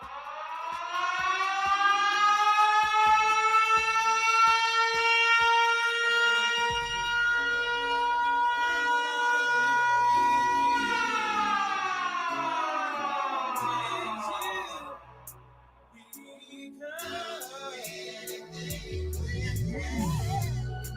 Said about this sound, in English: Siren time.